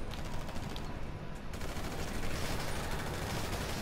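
Rapid automatic gunfire in GTA 5 online, dense continuous bursts of shots at moderate level filling the whole stretch.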